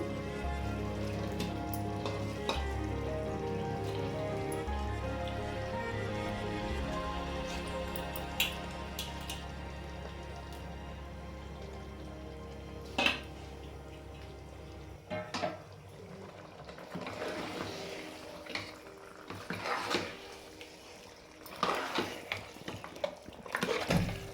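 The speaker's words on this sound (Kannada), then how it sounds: "ಈರುಳ್ಳಿ ಖಾರ ಚೆನ್ನಾಗಿ ಕುದಿತಾ ಇದೆ ಇದಕ್ಕೆ ನಾನಿವಾಗ ಮಟನ್ನ ತೊಳೆದ್ಬಿಟ್ಟು ಸೇರಿಸ್ತಾ ಇದ್ದೀನಿ" Washed mutton pieces are added to boiling onion masala for mutton sambar, a low steady bubbling simmer giving way to wet clattering, scraping and stirring in the pot, close up with no voices.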